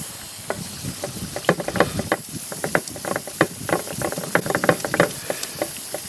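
A small rock worked by hand on 600 grit sandpaper while being polished, giving irregular close scratching strokes and light clicks at an uneven rhythm, with no talking.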